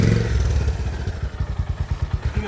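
A CB 350 or Himalayan motorcycle strains in first gear on a slope, its engine a loud, low, uneven pulsing that breaks into rhythmic thumps and clatter as it labours and fails to climb.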